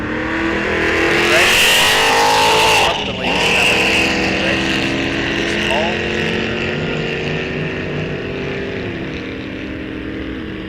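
Drag racing bike sled running at a bracket-series raceway, a loud sustained engine roar with rising and falling revving tones held throughout, a brief dip partway through, with crowd-level broadband noise around it and a voice over the top.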